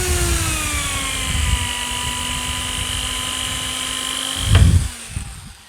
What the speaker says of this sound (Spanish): Entonces hacemos así y agujereamos.